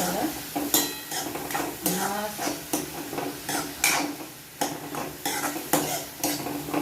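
Capsicum and leafy greens stir-fried for veg fried rice sizzle steadily in a pan while a metal utensil scrapes and clatters in repeated quick strokes. The sounds are close, with no talk over them.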